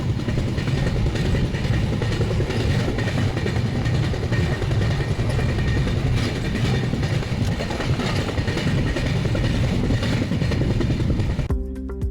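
The Visakhapatnam Express rumbles along steadily from Pune, a dense continuous roar of wheels and carriage noise throughout, heard from inside, with no voices.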